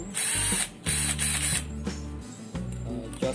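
A Mitsushi 18-volt two-speed cordless drill runs in several short bursts, a close, whining motor hum that starts and stops repeatedly with a few brief pauses between runs.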